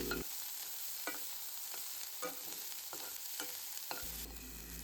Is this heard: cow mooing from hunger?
no